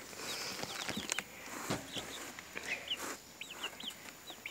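Baby chicks peep in quick, high chirps while chickens cluck softly nearby, outdoors with faint rustling and patter around them.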